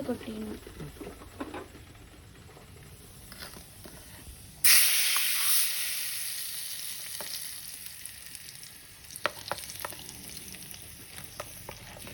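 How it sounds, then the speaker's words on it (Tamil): Mustard seeds hit hot oil in a home kitchen pan making a spicy egg dosa, bursting into a sudden loud sizzle that fades gradually amid faint crackles. "எண்ணெய் காஞ்சிருச்சு. இப்போ கடுகு போடுறோம்."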